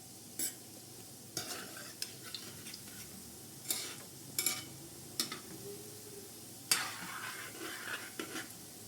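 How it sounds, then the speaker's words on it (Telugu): Gulab jamun balls fry in oil over a low flame, a soft steady bubbling with scattered stirring clinks and a few sharper knocks against the pan, fairly quiet and without talk. "లో ఫ్లేమ్లో పెట్టుకుని ఫ్రై చేసుకోవాలి."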